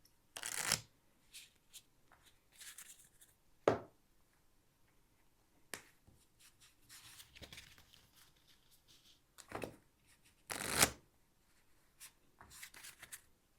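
A deck of cards is shuffled during a solo playthrough of the card game Endearment, with several crisp riffle bursts separated by quiet pauses and softer handling sounds, close to the microphone and with nobody talking.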